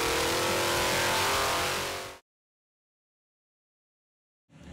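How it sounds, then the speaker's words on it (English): A 496 cubic inch Big Block Chevy stroker engine roars loudly on a dyno for about two seconds, tapers off and falls silent, then starts to come back in right at the end. "we have our 496 cubic inch Big Block Chevy on the dyno and we have it running"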